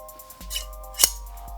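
Large fabric scissors snip twice, two sharp metallic clicks close by against a quiet background hum.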